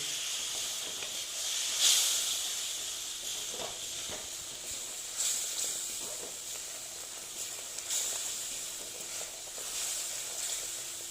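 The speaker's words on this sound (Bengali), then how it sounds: "দিয়ে মশলাটা আবার একটু কষে নিচ্ছি" Spice paste for aloo dum, with a splash of water added, frying in a pan as a quiet, steady hiss and sizzle broken by a few soft stirring scrapes.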